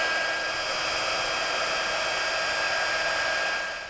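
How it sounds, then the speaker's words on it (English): A handheld heat tool melting embossing powder on a Stampin' Up card gives a loud, steady, fan-driven airy roar, constant and uninterrupted like a hair dryer, fading slightly at the very end. "This is the heat tool. And I'm going to heat up this powder and melt it."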